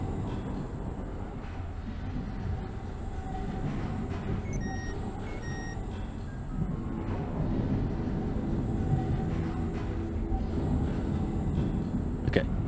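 Tram rolling through the mines in the Abiotic Factor game: a steady low rumble with rail-like clatter, a few short beeping tones partway through and a sharp click near the end.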